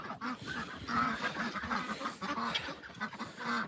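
Ducks quack in a steady, overlapping chorus on a winter homestead near a frozen water dish, loud and close with repeated nasal calls throughout and no talk.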